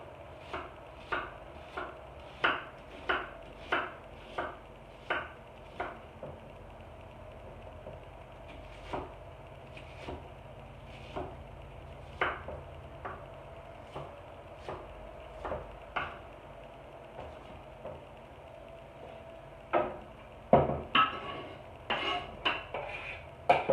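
Two leftover onions being chopped for meatloaf, a series of crisp, close knife strikes on a board in uneven bursts, faster toward the end, with no talking.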